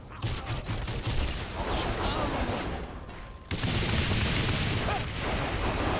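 Explosive gunfire from guns that deal explosive damage in the video game Saints Row The Third, a dense, continuous barrage of booming shots and blasts that fills the whole stretch with a brief dip midway.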